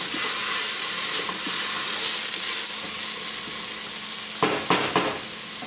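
Zucchini and leeks stir-frying in a pan for vegetable ramen make a loud, steady sizzle that stays close and fills the whole stretch, with a few brief clattering stirs near the end.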